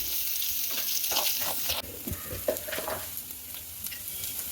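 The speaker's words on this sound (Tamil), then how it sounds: "சின்ன சின்னதாக வெட்டி வச்சுருந்த வெங்காயத்தை சேர்த்துக்கிறோம்" Small chopped onions hit hot oil in a pan while cooking spicy kuzhi paniyaram batter, giving a steady crackling sizzle broken by scraping and clinking stirring strokes.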